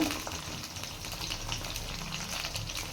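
Brinjal cooking in oil in a pan, North Karnataka style, gives a steady close sizzle with fine crackling spits that holds even and continuous throughout, with no voices over it.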